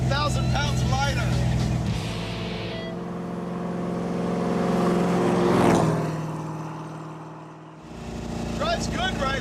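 A muscle car with 389 rear gears drives along, engine droning and swelling under people talking, rising to a louder pass before dropping off briefly.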